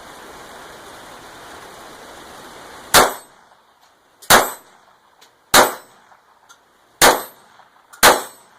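Five sharp, loud cracks from a Ruger SR22 pistol firing CCI Mini-Mag .22 rounds, spaced about a second apart, follow a few seconds of steady outdoor hiss like running water.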